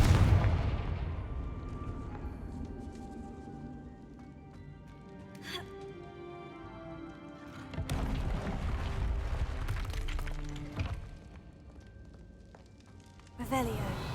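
Fiery explosive Confringo spell blasts in the video game Hogwarts Legacy: a faint burst early, then a loud booming impact with a rumbling tail and another sharp blast near the end, with game music and effects beneath.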